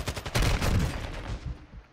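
A loud, close gunshot from a sniper in the video game Warzone 2.0, with a sharp report and a decaying echo tail over a couple of seconds.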